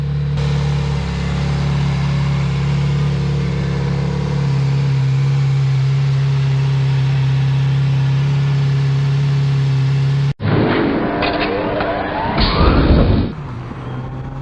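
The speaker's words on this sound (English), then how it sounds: "I'm gonna let the motorbike warm up" A 2020 Kawasaki Z900RS motorcycle engine idles to warm up on a cool day with a steady, low droning hum for about ten seconds, then cuts abruptly to rising, whining mechanical tones.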